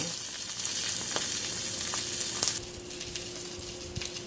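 Blackened salmon fillet sizzles steadily in a hot pan, a dense continuous frying hiss with small pops that drops noticeably in loudness partway through, with no talking.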